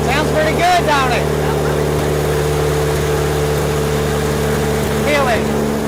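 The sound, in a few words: 1964 International Harvester Scout engine idling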